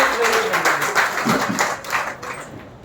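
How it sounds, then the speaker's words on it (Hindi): A crowd at an International Women's Day ceremony in a main office claps for a guest from Faridabad, a busy, close patter of many hands that thins toward the end. "नीलम जी दोबारा तालियां फरीदाबाद से"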